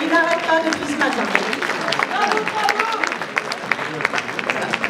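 Audience applause at a feminist-cause event called ROSE, a steady patter of clapping with crowd murmur, while someone speaks over it through a microphone.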